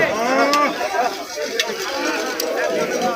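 Several cows moo nearby at a roadside cattle market in Rajshahi, their low drawn-out calls overlapping with background chatter and bustle.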